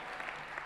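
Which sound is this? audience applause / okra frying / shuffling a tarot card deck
audience applause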